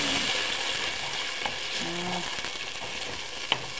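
Sardines sautéing in a pan for ginisang sardinas give a steady, close sizzle and frying hiss, with a few faint stirring scrapes and one sharp utensil tap near the end.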